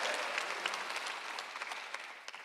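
Worshippers at a Korean Sunday church service break into applause, a full burst of clapping that slowly thins out into scattered individual claps toward the end, with no speech over it.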